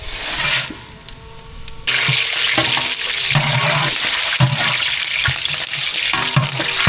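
Spices sizzle and crackle in hot oil for a vegetable biryani, a loud, continuous frying hiss that swells after a brief quieter start, with stirring clatter close by and no talking.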